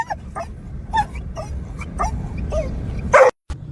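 Several dogs yip, whimper and bark excitedly, sounding in short, irregular bursts up close, ending with one louder bark before a sudden brief silence.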